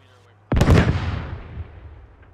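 A single heavy mortar blast in a squad-based shooter game hits suddenly and loud, then rumbles and decays for over a second into quiet.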